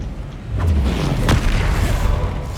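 A Confringo spell explosion in the Hogwarts Legacy video game, a deep loud boom with rumbling low-end that swells in and sustains, alongside sharper crackling bursts.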